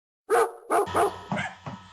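Two dogs bark in a school radio play. There are four or five sharp, close barks in an uneven burst that opens loudly, and the later barks are a little softer.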